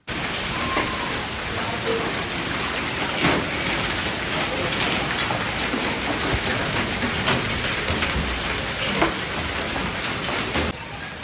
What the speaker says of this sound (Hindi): आवाज़ आप सुन सकते हैं कि कितना शदीद तूफ़ान था।